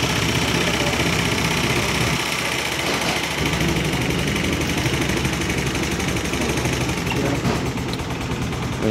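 Yamaha YBR motorcycle engine after a 125cc to 150cc conversion, idling with a steady, loud, close mechanical chug throughout; speech is faintly present.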